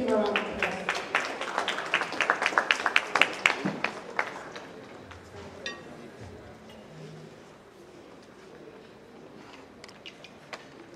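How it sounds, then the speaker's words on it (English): An audience at a gala dinner applauds a guest speaker, a burst of many hands clapping loudly at first, then thinning out and fading into quiet room noise with faint talk. "Please give a round of applause."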